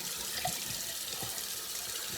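A bathroom tap runs steadily for a cold rinse while shaving, a close, even hiss of water pouring into a sink with faint splashes and no voices.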